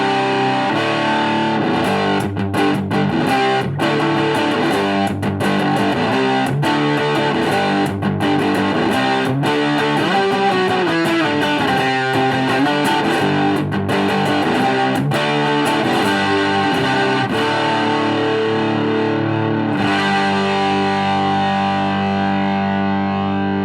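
An electric guitar runs through an MXR Doubleshot distortion pedal with a mid-hump boost, giving dense, continuous, saturated rhythm chords and riffs that hold steady loudness for over twenty seconds with no talking.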